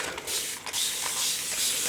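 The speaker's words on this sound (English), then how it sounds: "So I'm going to use Uncharted Mariner Distress Stain with it. And spray." Distress Stain spray in Uncharted Mariner, spritzed from a pump bottle onto a gel print in a crafting session, making several short, close hissing bursts in quick succession.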